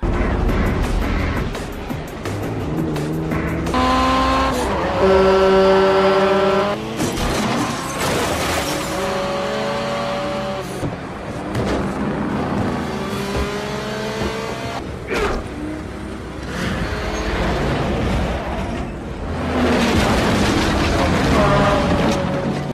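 Cars in an action film chase a speeding container truck, with engines roaring and revving, vehicles passing close by and occasional booms, all loud and continuous alongside film music.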